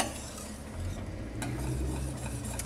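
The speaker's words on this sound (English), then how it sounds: "then you work that into the sauce" Shredded cheese being worked into a thick orange cheese sauce, a low, continuous stirring churn with soft scraping in a pot, close and steady without speech.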